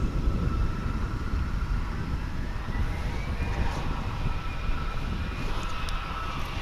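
A SkyWest airliner at Dallas/Fort Worth International Airport gives off a steady jet roar with a faint rising whine, mixed with wind rumble on the microphone, continuous and moderately distant.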